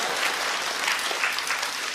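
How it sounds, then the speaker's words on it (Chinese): A comedy show audience gives a short, steady burst of close clapping lasting about two seconds, with no voices over it. "这掌声算要下来了。"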